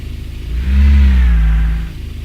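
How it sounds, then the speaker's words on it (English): A car engine in the driving game Car Driving Simulator cranks and catches, swelling into a loud, deep rev for about a second before settling back to a lower idling rumble. "So start the engine."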